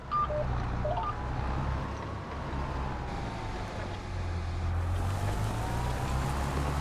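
Steady rainfall hissing continuously over farmland in Farming Simulator 25, with a low vehicle engine hum underneath and a few faint tones.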